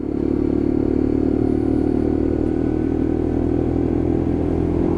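Lexmoto LXR 125cc Euro 5 motorcycle being ridden, its steady mid-pitched engine drone running continuously and loud throughout, with no talk.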